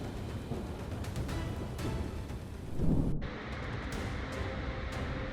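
Low rumbling thunder rolls through steady broadband storm noise during a lightning storm over Southwest Florida International Airport, swelling to a louder boom near the middle before settling back into constant rain-like hiss.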